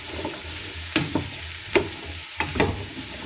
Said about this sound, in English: We gently put these in here. Ooh. Sizzle, sizzle.